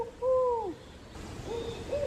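An owl hoots suddenly and loudly at night in the woods at a Florida state park campsite, with two clear tonal calls, a pause, then softer answering hoots as a person appears to imitate the call back.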